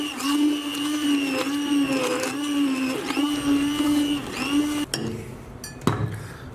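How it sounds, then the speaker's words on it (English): A stick mixer blitzes Middle Eastern meatball soup in a pot, a loud whining motor hum that wavers in pitch as it works, then cuts off with a few clinks at the end. "go ahead and blitz this with a stick mixer"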